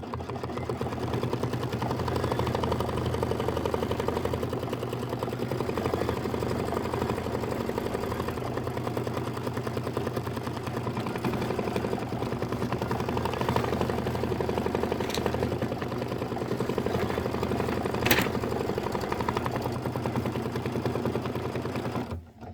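An embroidery machine stitching a tack-down line over fabric vinyl, a steady continuous mechanical whir and needle hum running unbroken at close range, with a couple of faint clicks.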